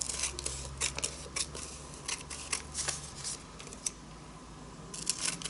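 Scissors snip through a square of paper in a quiet room, a series of close, crisp cuts in an irregular rhythm over a low hum.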